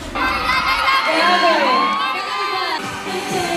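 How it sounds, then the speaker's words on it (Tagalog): A loud crowd of fans screams and cheers continuously at a celebrity fan event in Iloilo, with high-pitched shrieks and whoops rising over a dense wall of voices. "lalong lumakas ang tilian at hiyawan"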